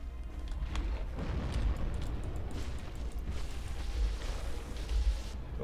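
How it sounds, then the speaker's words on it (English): Rumbling fiery explosion in Dark Souls, a sustained low roar with scattered bursts and crackles that holds at a fairly steady level throughout, no voices present. "He's going to do a really close explosion."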